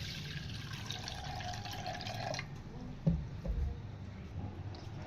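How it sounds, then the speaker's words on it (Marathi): Washing water is poured off soaked rice in a kitchen, a steady trickling stream that stops midway, followed by a few soft drips and light knocks of the vessel. "ही पाणी मी आता काढून घेणार आहे।"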